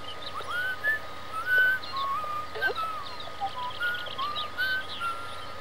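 A strange man whistles in the video game Beyond Eyes, a series of short rising and falling whistled notes heard at moderate distance over a quiet ambient background.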